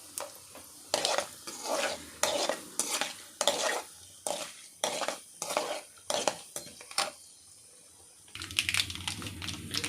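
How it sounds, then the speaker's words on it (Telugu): Green chillies deep frying in hot oil for a restaurant-style okra (bendakaya) fry, with a series of sharp clinking stirs and utensil scrapes over a steady sizzle, then a louder, fuller frying hiss near the end. "దాంతోపాటు 4 పచ్చిమిర్చి డీప్ ఫ్రై చేసుకుందామండి"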